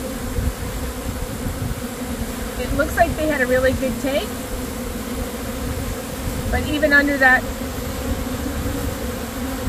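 Honey bees drone steadily around a queen rearing frame, a continuous close buzz that runs through the whole stretch while a person talks over it now and then.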